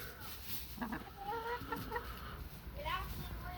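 Chickens in a coop on a rainy day cluck softly and murmur in scattered, overlapping calls. The clucking is low and close, with steady background noise and no clear talk.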